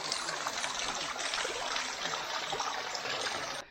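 A small hill stream near Koonichi Mala in Vellarada runs with little water, giving a steady, close trickling rush that holds evenly throughout before cutting off at the end.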